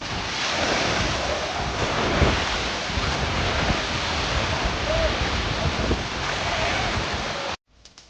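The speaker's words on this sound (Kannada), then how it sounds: "ಈಗ ಪೂರಾ ನೀರು ಹರಿಯತ್ತಾವಲ್ರಿ" Water flows in an outdoor stream with a broad, continuous rushing roar mixed with wind buffeting the microphone. It stays loud and steady throughout before dropping off abruptly at the end.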